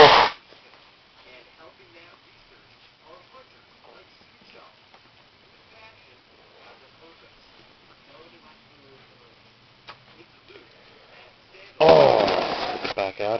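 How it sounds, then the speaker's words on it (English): A short, sharp sneeze burst opens the clip, then a long near-silent stretch with faint background murmur, ending in a loud, noisy nose blow. "Pardon me while I sneeze and blow my nose."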